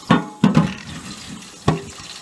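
Boiling water poured from a kettle into a Pampered Chef stoneware baking pan, heard as three short splashing bursts with watery trickling between them, close up and with no talking.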